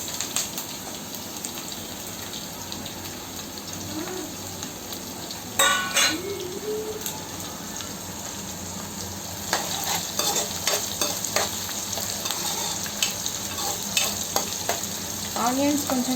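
Onions frying in oil with green chillies and curry leaves, a loud continuous sizzle with bursts of crackling and occasional stirring clatter throughout.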